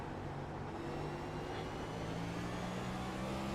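Car engine in a racing video game, a steady droning hum at constant pitch with no gear changes, continuous and moderately loud, with no voices over it.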